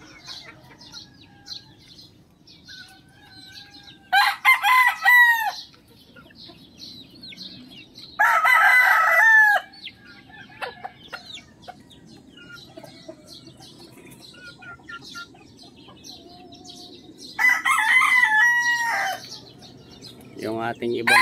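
Chickens and roosters in a small backyard coop in Cavite: three loud, drawn-out cock-a-doodle-doo crows arrive spaced apart, with scattered clucks and a low murmur of someone talking between them.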